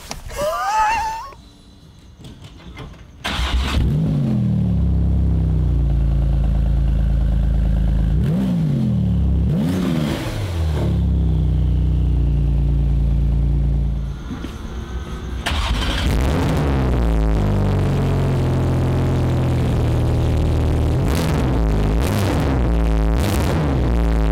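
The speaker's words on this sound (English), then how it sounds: "the GT2RS Clubsport is just a little bit louder than its street variant" A Porsche 911 GT2 RS Clubsport race car engine roars and revs loudly and up close, with repeated blips and surges over a steady, heavy drone that runs almost nonstop.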